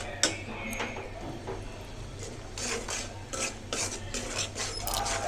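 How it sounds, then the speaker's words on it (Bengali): A utensil scrapes and clinks against a pan as bata fish and taro are stirred together with ground coriander, cumin and salt, a steady clatter of close mixing with a low hum in the background. "ভালো করে মিক্স করে এটা কষাবো"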